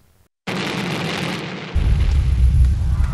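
Sudden loud blast erupts from near silence, followed by a heavy, rumbling roar that deepens and continues, with no voices.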